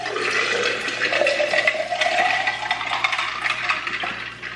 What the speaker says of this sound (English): So I already have some ice in here. I'm just gonna fill the rest with water.